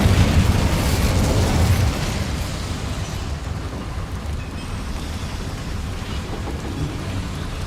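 Casting the Incendio fire spell in Hogwarts Legacy sets off a loud burst of roaring flame. It fades into a sustained crackling, rushing rumble with no talk.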